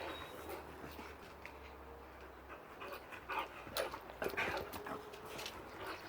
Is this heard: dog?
yes